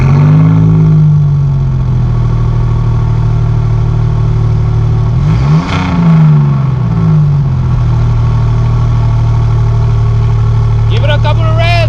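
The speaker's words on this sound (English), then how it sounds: "let's get a clip of this car revving." Alfa Romeo Giulia GTA engine idling loud and close with a steady low drone, rising in one short rev blip midway before settling back to idle.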